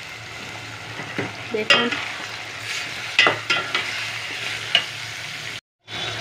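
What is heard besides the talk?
minced meat frying with onion and tomato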